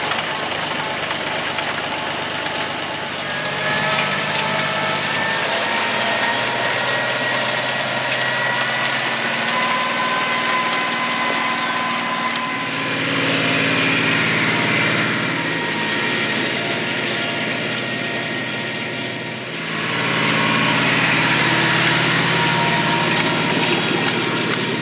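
A tractor engine running steadily with its PTO engaged out in a hayfield, a loud continuous drone that swells and dips in two surges, with no talk over it.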